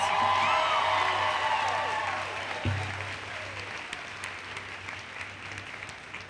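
A crowd at a high school graduation ceremony applauds with a few whoops, loud at first and tapering off after a couple of seconds, with a low steady hum underneath.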